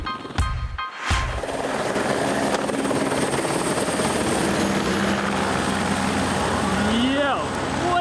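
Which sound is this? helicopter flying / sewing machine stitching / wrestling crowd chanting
helicopter flying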